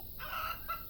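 Chickens in the farming sim Farm Manager 2018 give a short, close burst of clucking and fowl calls, with two brief tonal squawks over a steady farmyard ambience and no voices.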